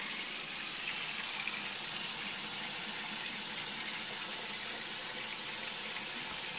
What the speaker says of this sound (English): So we're filling the vase up.